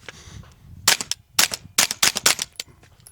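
Suppressed CZ Scorpion submachine gun firing 158-grain Fiocchi 9mm rounds through an Exigent Defense Milkman 9 suppressor: about six sharp, loud shots in a quick irregular string, with a hushed outdoor background between them.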